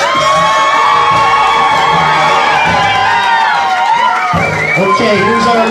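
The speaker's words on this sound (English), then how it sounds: "Keep that round of applause going for Ashley and Travis." Wedding guests cheer and applaud the bridal party at a ceremony, a loud, sustained crowd roar full of high shouts and whoops, with children's voices among them, steady throughout.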